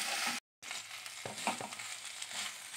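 Capsicum fries in a pan for shakshuka, giving a close, steady sizzle with a few stirring scrapes and taps and a brief cut of silence near the start.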